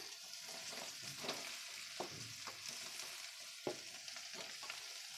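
Mashed boiled potatoes going into a pan of frying green chilies, a steady soft sizzle with occasional spoon scrapes and light clicks, fairly quiet and close, no talking.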